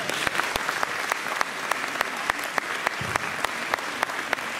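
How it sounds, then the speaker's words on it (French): Audience applauding after a short film screening at a talk, a steady wash of clapping with sharp individual claps standing out, fairly close and continuous throughout. "On vous remercie, on peut vous applaudir."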